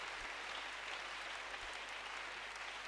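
A church congregation applauds the Lord, a steady, dense wash of clapping sustained throughout, heard from within the room with no voices standing out.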